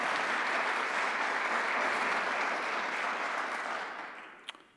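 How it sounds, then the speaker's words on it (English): Round of applause from an audience at a university speaker series event, continuous full clapping that holds steady and then tapers off toward the end. "So let's give folks who've done that a round of applause."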